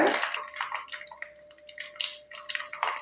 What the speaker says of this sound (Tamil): நல்லா ஒரு நூறு நூற்றம்பது மில்லி அளவுக்கு நீங்கள் தேங்காய் வந்து சேர்த்துக்கோங்க